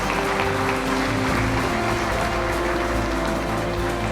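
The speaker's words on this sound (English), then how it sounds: "I think the applause needs to be thrice as much" Applause from the audience at a mutual fund awards ceremony, a continuous dense patter of clapping held at an even level, with a steady hum underneath.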